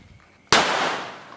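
A single firecracker bursts during a Vishu celebration, a sharp, loud crack that decays into a roaring, rustling tail over about a second, with no talking.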